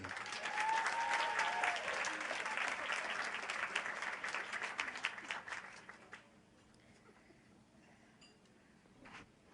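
An audience at the 25th Annual Malcolm King Breakfast, an honoring event, gives a speaker a sustained, loud burst of applause with some clinking of glasses and dishes, then the clapping cuts off abruptly and the room goes quiet.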